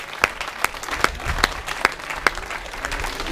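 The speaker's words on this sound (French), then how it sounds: "On peut les applaudir, 1300 personnes." A large audience applauds some 1,300 walkers at a charity event, a steady wash of clapping punctuated by several sharp, louder individual claps at a roughly regular pace.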